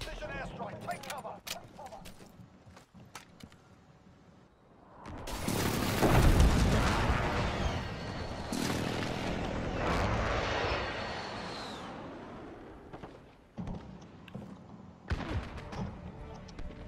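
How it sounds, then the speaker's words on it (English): Precision airstrike explosions in a Call of Duty multiplayer match roll in as a loud, booming burst that swells and lingers for several seconds, with scattered gunfire before and after. "Enemy precision airstrike, take cover!"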